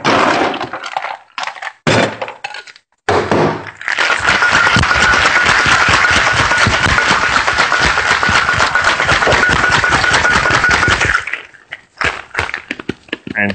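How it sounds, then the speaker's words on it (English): Hard shake of a Sour Punt cocktail with lemon juice in an ice-filled cocktail shaker: loud, dense, sustained rattling and clattering of ice for about seven seconds, preceded and followed by a few brief, choppy bursts of ice knocking. "Next make hard shake."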